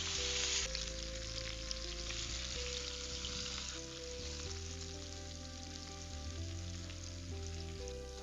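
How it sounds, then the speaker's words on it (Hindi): Okra frying in hot oil gives a loud, steady sizzle with crackling throughout, under a sustained musical background and with no talk. "और इसमें हम हमारी भिंडी इसमें तलने के लिए डाल देंगे।"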